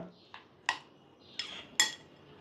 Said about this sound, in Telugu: పల్లీలు బెల్లము ఇట్లా కలిపేసుకుందాం మంచిగా